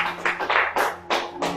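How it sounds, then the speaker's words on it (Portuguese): A few people at a church service clap in a sparse, irregular rhythm, distinct separate claps close by over a low steady hum. "Salve de palmas para o Senhor mais uma vez."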